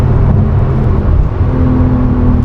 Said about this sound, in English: and I'd hold out for a sports exhaust as well. It's just got that beautiful sound